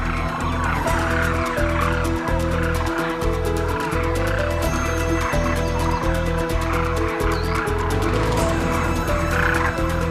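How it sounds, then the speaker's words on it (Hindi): A dense flock of cranes calls continuously at a morning feeding enclosure where grain is scattered, loud, overlapping honking and croaking voices filling the air without pause. "क्रेन्स बेहद चौकन्ने जीव हैं। ये खाना देखकर तुरंत नीचे नहीं उतरते।"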